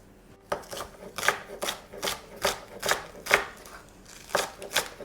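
A knife roughly chops spring onions on a board, about ten crisp, evenly spaced strikes in a steady rhythm, close and clear with no talking.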